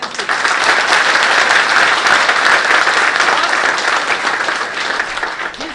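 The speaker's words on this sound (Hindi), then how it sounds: "एक बार जोरदार ताली ऑडियंस के लिए" An audience claps loudly and continuously for several seconds at a success event, dense steady applause filling the room without pause.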